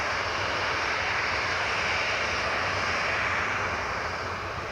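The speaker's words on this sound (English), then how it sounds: "that's the Emirates just taxiing there" An Emirates airliner taxis at Newcastle International Airport on a hot day, its jet engines giving a steady, broad roar. The sound holds constant at middle distance and stands alone, with no voices.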